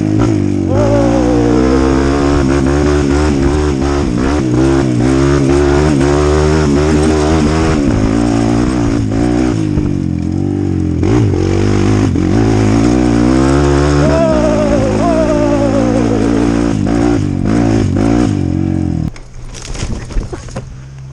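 A trail motorcycle engine revs hard and close on a mountain trail ride, holding a loud, steady roar with rising and falling pitch for about twenty seconds before cutting to rougher, quieter sputters at the end.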